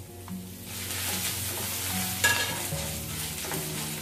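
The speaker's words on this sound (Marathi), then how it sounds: "हे सर्व आपल्याला काजू रोस्ट होईपर्यंत अगदी 2 मिनिटं मिक्स करून घ्यायचं आहे" Cashews, curry leaves and dried coriander stirred and roasting in a pan for upma premix, giving a steady close sizzle with repeated spoon scrapes and a sharp clink partway through, with no talk.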